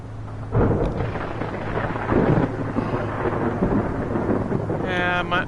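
Thunder from a lightning strike in a video game, a loud rolling rumble that swells and lingers for several seconds, with a brief higher whine near the end and no talking.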